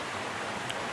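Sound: river falling from mountains, flowing water

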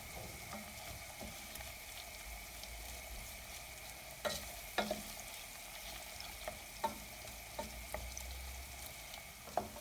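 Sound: sautéing tomato paste in a pot

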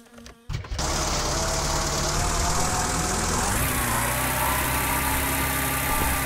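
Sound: old car engine idling

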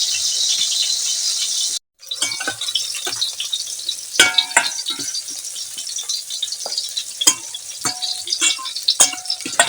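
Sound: bitter gourd, okra and chilies frying in oil

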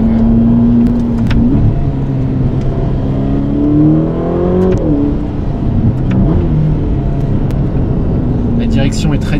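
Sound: Ferrari Roma sports car accelerating at full throttle

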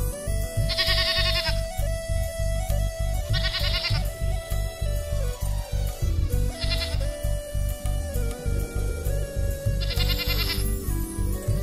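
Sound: sheep bleating

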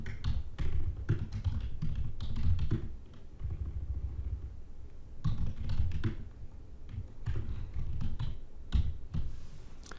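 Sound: typing an email subject on a computer keyboard

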